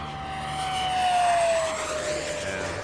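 An RC F9F Panther jet on its maiden flight whooshes past overhead at high speed, its turbine whine rising to a peak and falling away with a clear pitch drop as it passes.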